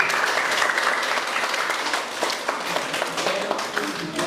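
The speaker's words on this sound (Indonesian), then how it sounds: "sebelum kita tutup sekali lagi beri aplaus dulu untuk kita" Applause from a class audience at the close of an Indonesian elementary-school science lesson, a dense continuous clapping that stays steady and fairly loud throughout with no talk over it.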